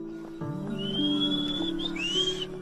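Horses of a twelve-animal pack train carrying expedition loads along the Kali Gandaki River in Mustang, with one sustained neigh or whinny close by over a low steady hum.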